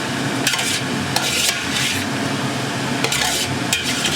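Meat for a Flemish carbonade being stirred in a pot, a steady broadband scraping and sizzle with a few louder spoon strokes, close and without talk.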